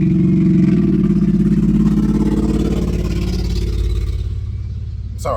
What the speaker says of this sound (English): Lady dropped by in the car.